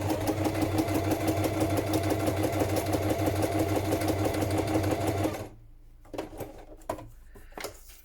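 A sewing machine stitches a journal cover in a steady, loud, continuous whir for several seconds, then stops, leaving a few soft clunks and handling sounds from the machine.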